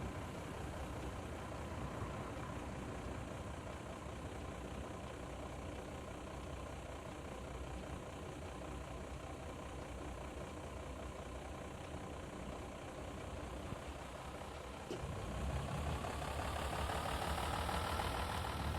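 A truck engine idles in traffic, a steady, loud mechanical rumble with a faint knocking texture that runs unbroken, then swells louder and fuller near the end as the engine revs up or draws closer.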